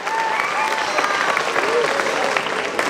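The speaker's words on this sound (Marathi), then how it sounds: "ओके, टाळ्या वाजायला पाहिजे मित्रांनो." Steady applause from a crowd of students at a college talent competition in South Solapur, continuous dense clapping throughout, with voices mixed into the crowd noise.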